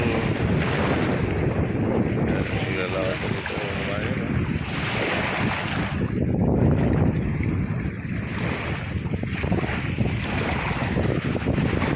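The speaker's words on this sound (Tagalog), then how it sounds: "Malakas ang hangin." Strong wind at sea on a fishing boat, roaring and buffeting the microphone continuously, with a rushing, surf-like noise throughout and a brief spoken remark partway through.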